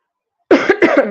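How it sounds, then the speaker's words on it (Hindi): A person coughs twice in quick succession, close and loud, after a moment of silence. "सॉरी, काफी खांसी मुझे आ रही है आज"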